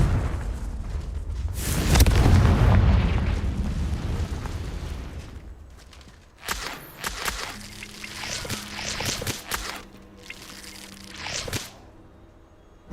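The Confringo spell in a video game erupts in a rumbling fiery blast, followed by a series of sharp impacts and crackles over background ambience.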